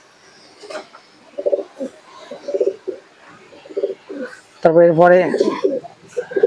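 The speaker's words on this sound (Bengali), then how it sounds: "দেখুন এই এক জোড়া কবুতর আছে" Domestic pigeons in an elderly keeper's sale flock, including a Kaldoma male and female, give low cooing calls beneath a man's speech, with one stronger close coo near the end.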